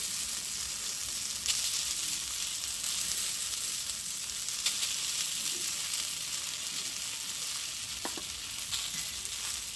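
Shrimp frying in a pan for a village-style jackfruit curry, giving a steady, even close sizzle with occasional faint clicks.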